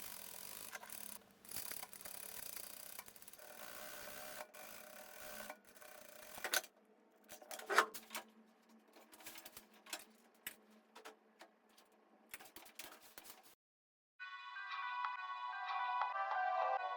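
Sewing machine stitching the hem of a lace mini skirt, bursts of rapid mechanical clatter with pauses, quiet and close, then a higher tonal chime near the end.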